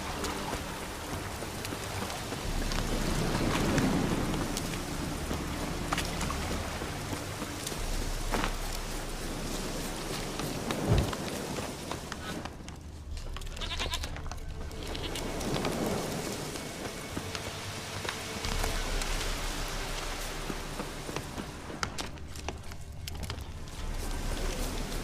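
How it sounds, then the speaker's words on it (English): Heavy downpour in the video game The Witcher 3, a steady loud roar of rain on surfaces with low thunder rumbles rolling through, continuous for the whole stretch with no talking. "This downpour's a bastard"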